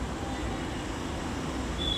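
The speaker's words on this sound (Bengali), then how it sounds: "ট্রেন পথে যাচ্ছি, যেতে যেতে বাইরের দৃশ্যটা একটু ক্যামেরায় বন্দি করলাম।" Steady low rumble of a moving train heard from inside a carriage, a continuous even roar with no voices.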